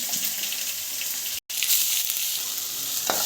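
Garlic and cumin fry in hot oil with a steady, close sizzle, broken by a brief moment of silence in the middle and no talking.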